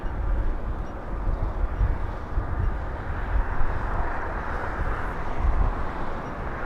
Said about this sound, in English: I'm pretty sure they said Southwest cleared for takeoff